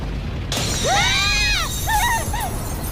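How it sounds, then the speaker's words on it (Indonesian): Window glass shatters after a lightning strike in an animated scene: a sudden loud crash, followed by high swooping, ringing tones that rise and fall over about two seconds. "Tiba-tiba, kaca jendela yang berada di sebelah mereka hancur tersambar petir."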